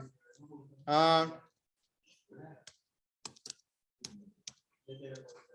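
Computer mouse clicks while data is entered into an Excel spreadsheet, a few sharp isolated clicks scattered between a man's speech.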